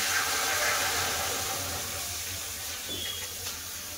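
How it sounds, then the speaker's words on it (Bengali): Water pours steadily into a pan for boiling dal, a continuous splashing rush that holds nearly level throughout, with no voices. "ডাল সিদ্ধের জন্য কড়ায় জল দিয়ে দেবো"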